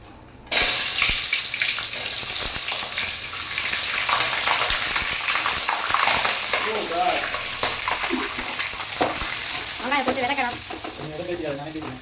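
Onions for masala biryani hit hot oil in a pan with a sudden loud sizzle that settles into a steady, close frying hiss, and a voice talks over it now and then.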